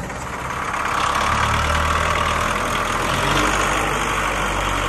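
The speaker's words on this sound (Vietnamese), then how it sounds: "Nổ thì thầm hết. Ga ti nghe anh em." An engine idles close by with a low, even rumble that swells slightly as throttle is applied, then holds steady, with no talking over it.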